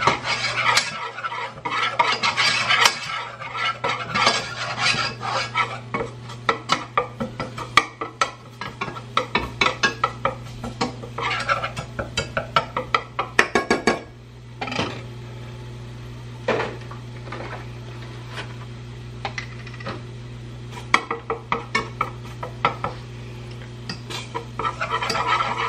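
A spoon scrapes and clatters steadily in a pot as flour is stirred into fat on the stove, rhythmic clinks and scrapes over a low steady hum, with no talking.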